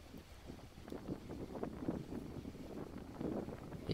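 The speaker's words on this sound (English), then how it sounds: "There's definitely gusts up to like 35, maybe touching 40 miles per hour" Strong gusty wind at an outdoor disc golf course during a tournament round, a rough continuous low rumble buffeting the microphone in uneven surges, with no talk over it.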